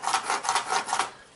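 A pencil is drawn corner to corner across a wooden workpiece for a CNC router job, making a soft, close scratching rub in a few quick back-and-forth strokes with no speech.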